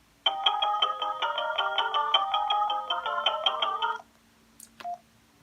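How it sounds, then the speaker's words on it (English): A polyphonic message tone from an Alcatel OT-E220 mobile phone plays a rapid, bright melody of repeated notes for about four seconds, loud and clear, followed by a brief short beep. "The message tone are the same of the ringtones"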